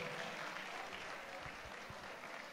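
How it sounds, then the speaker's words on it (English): Concert audience at a 10th anniversary show applauding steadily, a dense, even wash of many hands clapping at moderate distance, continuing without pause throughout. "another big round of applause. I think they deserve."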